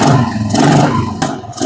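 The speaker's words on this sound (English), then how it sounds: "Let's let the engine warm up a little bit." A loud Royal Enfield motorcycle engine runs close by, warming up with a rough, rumbling idle that swells slightly, as if being revved.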